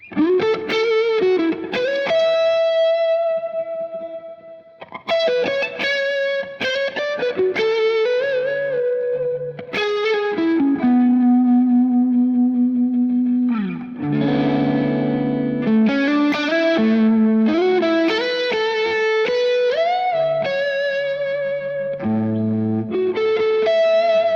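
Electric guitar on the neck pickup plays a melodic solo through an MXR Carbon Copy Mini delay and reverb, notes trailing into delay repeats and a reverb wash, loud and close with no talking.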